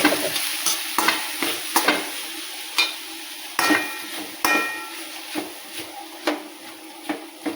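Pieces of raw mango warming in a spoonful of ghee in a pan are stirred with a spoon, a steady series of sharp scraping strokes against the pan, close and clear with no talking.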